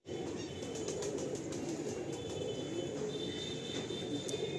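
A pair of pigeons is released by hand, and a steady whoosh of flapping wings fills the moment with continuous broadband rustle and no talking.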